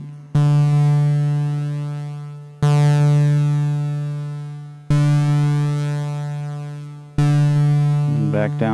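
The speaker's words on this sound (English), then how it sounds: "Bias the sine wave up." A bright sine tone from an STG Soundlabs Wave Slicer synthesizer module, biased up, sounded four times in a steady rhythm, each note starting sharply and decaying, with a brief burst of talk at the end.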